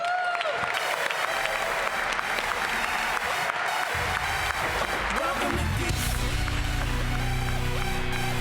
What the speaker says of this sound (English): put your hands together as if it is a holiday morning, and welcome to this in space, your Washington Wizards